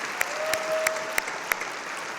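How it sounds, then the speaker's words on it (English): Audience applause at a community event in Macon-Bibb: a soft, continuous bed of clapping with a few sharp, evenly spaced louder claps standing out close by, about three per second. "Y'all give her another round of applause."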